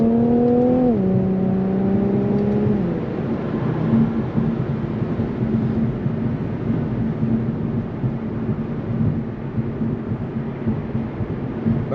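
An Infiniti Q50 Red Sport 400 accelerates with a steady, droning engine note that climbs and then settles into a sustained rumble with a whirring turbo, heard from inside the car over road noise, with no talk.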